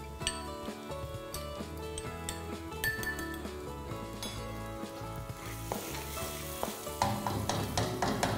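Fermented soybeans (tao si) stir-fried in a pan for a grouper dish, with a steady loud sizzle, metal spatula scraping and clinking against the wok, and a burst of stronger hissing near the end; no talking.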